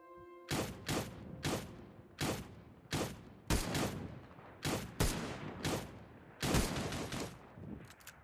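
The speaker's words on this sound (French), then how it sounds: "À côté, ça tire." Close gunfire in the shooter game Cyber Hunter, about a dozen sharp, loud bursts fired in an irregular rapid rhythm with short decaying tails, no voices.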